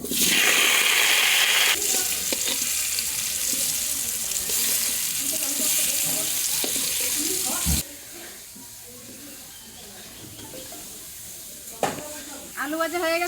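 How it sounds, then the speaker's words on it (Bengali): Potatoes fry in hot oil in a home kitchen with a bright, steady sizzle that fades partway through, followed by a few stirring clinks as a voice talks nearby. "আলু ভাজা হয়ে গেছে, এখন আমি নামিয়ে নেব।"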